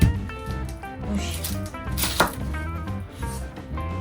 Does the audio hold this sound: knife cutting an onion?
yes